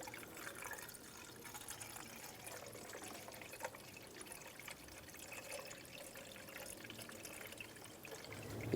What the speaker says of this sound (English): Add the appropriate type of coolant with a 50-50 mix.